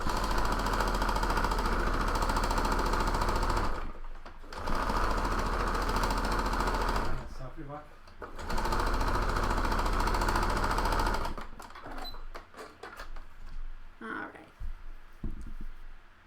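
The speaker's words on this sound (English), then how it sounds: "I'm going to sew that at just the 1/4 and seam allowance all the way across" A sewing machine top-stitches a quarter-inch seam across a fabric mask, running in steady loud bursts with brief pauses between, then softer handling noises at the end.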